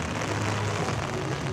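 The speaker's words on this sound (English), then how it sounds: "This park is so pretty in the rain." Rain falls steadily in a theme park at Universal Orlando, a dense, even hiss of drops on surfaces with no voices.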